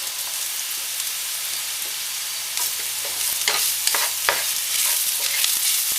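Caramelized onions and mushroom sauté in a hot pan, a bright, close sizzle that swells midway as the food is stirred and tossed, with scraping bursts over the steady frying hiss and no voices.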